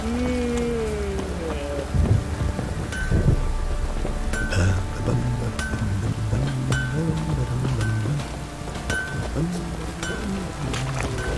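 Steady rain falls with rumbles of thunder in The Witcher video game, a dense, even wash of noise heard under occasional voices and game sounds.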